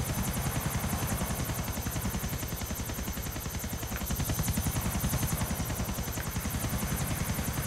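A helicopter in GTA IV comes in to land, its rotor chopping in a fast, steady rhythm that stays loud and constant throughout, with engine drone beneath and no talk.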